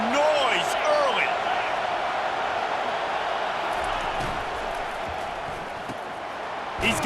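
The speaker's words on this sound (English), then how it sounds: "This crowd bringing the energy and noise early." A packed crowd at a football game roars continuously, loud and dense, with scattered shouts and whistles rising over the steady din.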